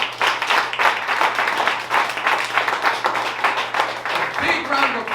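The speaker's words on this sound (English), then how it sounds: "Give a big round of applause to yourselves." Audience at a comedy show applauds itself, dense clapping filling the room steadily for several seconds, with a voice breaking in near the end.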